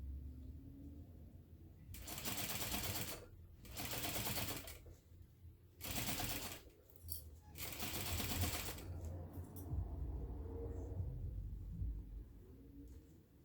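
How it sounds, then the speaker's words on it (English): A sewing machine stitches along the length of a zipper for a purse, running in four bursts of steady whirring separated by short pauses, then quieter handling noise afterward. "Right now I'm only sewing along the length of the zipper."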